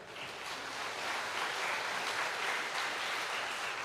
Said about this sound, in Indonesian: Tepuk tangan buat pemusik dan multimedia kita.